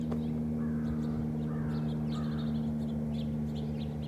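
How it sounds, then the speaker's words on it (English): Birds call outdoors at the end of February on a warm week, a few harsh caw-like calls in short spaced bursts over a steady low mechanical hum, fairly faint and with no one speaking. "hear the birds chirping?"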